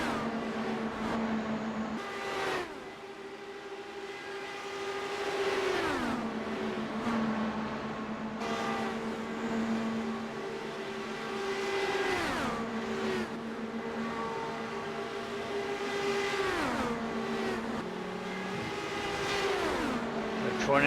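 IndyCar DW12 race cars at Indianapolis in a racing video game, with engines droning steadily and rising and falling through repeated gear shifts, loud and continuous throughout.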